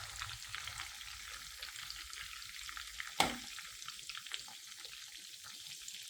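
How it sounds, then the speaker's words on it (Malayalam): Chicken fries in well-heated oil with a steady, faint crackling sizzle throughout and one brief, sharper clatter near the middle. "എണ്ണ നന്നായിട്ട് ചൂടായിട്ടുണ്ട്. ഇനി നമുക്ക് ചിക്കൻ മറിച്ചിടാം."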